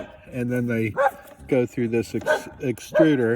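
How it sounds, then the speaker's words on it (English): A female pet dog barks in a quick run of yaps and woofs beside a backyard beehive, mixed under someone talking steadily. "That's my dog barking"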